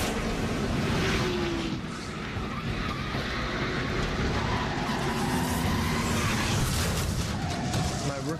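A NASCAR race car from 1998 with a punctured tire slams hard into the wall, heard as a loud, continuous roar of engine and crowd noise with a heavy impact and scraping, with no clear talk.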